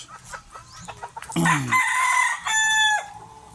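Young yellow chickens clucking and cheeping close by, a burst of loud rising calls and chattering clucks, with a little talking in the background.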